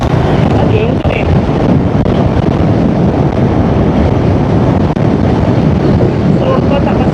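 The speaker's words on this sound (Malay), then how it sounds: "Tapi sebab angin sangat kuat." Strong wind buffets the microphone in a loud, continuous roar across the whole stretch, likely outdoors on the water near a boat, steady with no letup.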